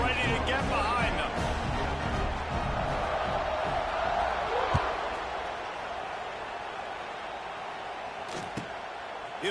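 A football stadium crowd roars in a steady, dense wash before kickoff, loud and continuous with a few sharp thumps, while a commentator talks over it.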